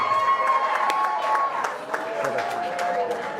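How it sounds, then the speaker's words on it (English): Wedding guests clap in a scattered round of applause that runs steadily for a few seconds, mixed with voices and background tones. "let's give her a round of applause."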